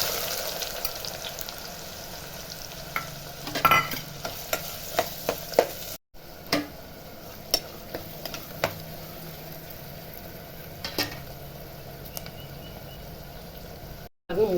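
Three large ground onions sautéing in oil with fried fenugreek seeds in a home kitchen pan, a continuous close sizzle broken by repeated sharp stirring scrapes and clinks of a spoon against the pan.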